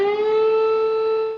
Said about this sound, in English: Sirens sound as explosions are heard moving closer and closer to the country's largest city.